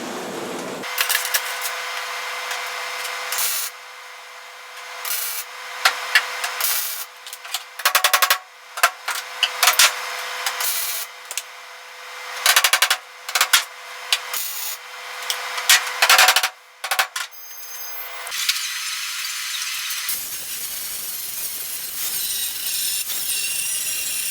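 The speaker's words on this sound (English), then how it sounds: "So I can weld right on top and get it all welded in." Plug welding a floor patch on a Chevy C10 truck during rust repair, loud crackling bursts of welding in short repeated blasts separated by brief silences, ending with a steady hiss.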